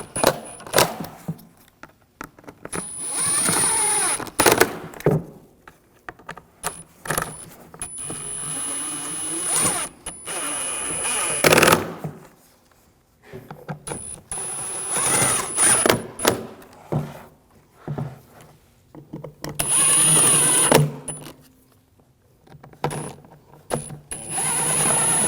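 Fasteners on the airbox of a 2007-2013 BMW 328i with the 3.0L inline-six are tightened down, giving close, intermittent clicks and short mechanical ratcheting bursts separated by quiet gaps.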